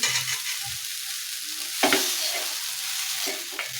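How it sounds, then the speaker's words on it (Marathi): Mixed vegetables being sautéed and stirred in a pan for a bread sandwich filling, with a steady sizzle under scraping stirs and a sharper clatter near the middle, close and moderately loud, no talking. "इथे आपल्या भाजी छान परतल्या गेल्या आहेत"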